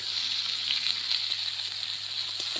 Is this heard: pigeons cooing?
no